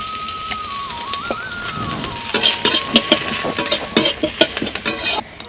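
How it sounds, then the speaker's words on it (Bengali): Onions frying in a home kitchen kadai as oil is poured in, with a soft steady sizzle that turns into denser crackling and popping partway through, close up and with no talk. "প্রথমে আমি কড়াতে পেঁয়াজ দিয়ে দিয়েছি এবার আমি তেল দিয়ে দিচ্ছি"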